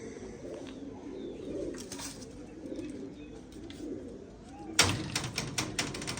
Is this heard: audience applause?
no